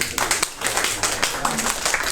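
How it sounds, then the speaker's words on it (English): A classroom of students gives a round of applause, a crowded patter of claps running steadily through the whole stretch with brief voices mixed in. "Could you all give each other like a round of applause?"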